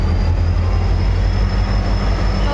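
Close, heavy rumble of a train standing at a crowded railway platform, a steady low drone with faint high whine on top and no speech.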